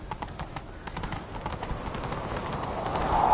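Galloping horse hooves in the video game The Witcher 3 pound in a steady rapid rhythm, close and moderately loud, with the sound building slightly toward the end.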